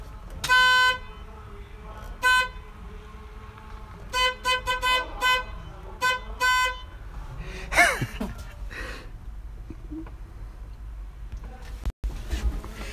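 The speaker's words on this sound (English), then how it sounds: "Okay, I'm gonna try to honk the horn." A Ford Crown Victoria Police Interceptor horn sounds in a series of short toots, one early, then a rapid cluster of several close together and two more, fairly near and loud, with faint talk between.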